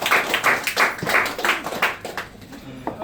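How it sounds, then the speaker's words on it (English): Brief burst of applause from a comedy improv audience, several loud claps for about two seconds, then thinning into a few scattered claps. "Give me a round of applause."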